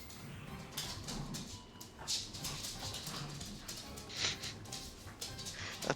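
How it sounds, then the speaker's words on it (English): Dogs bark, yip and whimper faintly in the background of a room, short scattered cries and yelps under a low steady hum, with no one talking. "Just the dogs in the back."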